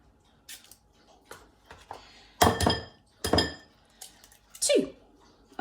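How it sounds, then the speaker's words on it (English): Eggs going into a bowl for banana pancakes, heard as scattered sharp glassy clinks and taps against the bowl, two louder knocks in the middle, with a quiet kitchen background. "Now we're going to add our eggs."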